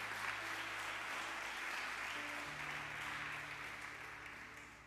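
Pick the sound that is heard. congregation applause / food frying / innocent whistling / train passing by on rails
congregation applause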